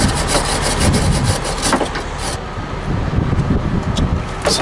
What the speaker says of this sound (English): I'll wire wheel that guy off.